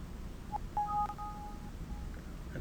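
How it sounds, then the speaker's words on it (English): Microsoft Excel 2013 gives an alert sound on opening a file: a few short, clean electronic beeps near one pitch, with a brief longer tone in the middle, over faint room hiss and no talking. "And Excel's giving me some sound there."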